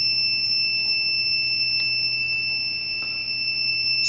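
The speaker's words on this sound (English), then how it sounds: "I apologize for the beep. That's our backup power. It's going off." A backup power system alarm sounds a steady, high-pitched electronic tone that holds unbroken through the whole stretch, fairly loud indoors with low room hum beneath.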